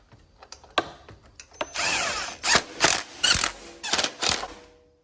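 A ratchet tightens bolts on a Briggs & Stratton Intek V-Twin carburetor, starting with scattered clicks and then several quick bursts of rapid close-up ratcheting.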